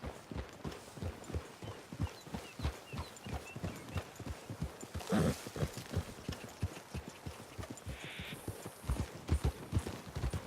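Horses' hooves clip-clop in a steady walking rhythm on a trail in Red Dead Redemption 2, close and clear throughout, with a short burst of rustling midway and a faint high tone near the end.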